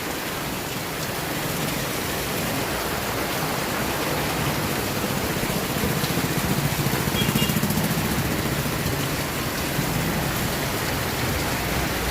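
Heavy rain pouring down in a steady, dense hiss that holds at the same loud level throughout, with no pauses and no voices over it.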